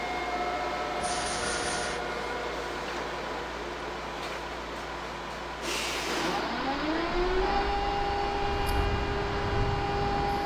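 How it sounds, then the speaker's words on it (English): A Toronto subway train in the OpenBVE simulator rumbles and hums steadily into a center track, with a rising electric motor whine and a brief hiss, the rumble growing heavier toward the end. "I'm bringing a train into the center track."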